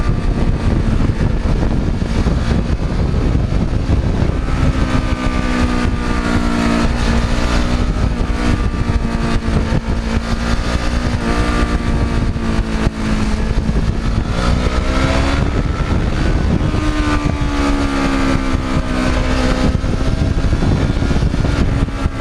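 A Kawasaki Ninja motorcycle at full throttle, a continuous loud engine roar rising through the gears, with heavy wind rush throughout.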